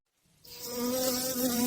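Honeybee foragers taking flight in early spring, as temperatures pass about 10 to 12 degrees, make a steady close buzzing drone that rises from quiet and holds, with a bright airy hiss on top and no voices.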